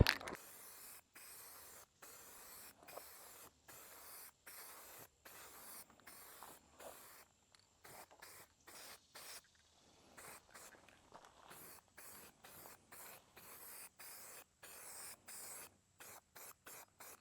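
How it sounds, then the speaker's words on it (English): A rattle can of spray paint hisses in repeated short bursts while spots are touched up on a truck rebuilt from scrap, with steady spurts separated by brief pauses throughout. "I picked up some rattle can version of that paint to touch up a few spots."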